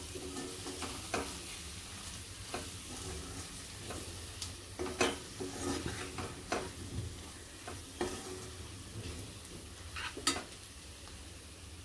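Mutton browning in hot oil with turmeric, homemade Koli masala and mutton masala, a steady soft sizzle broken by repeated scraping stirs of a spoon against the pan, close and fairly quiet.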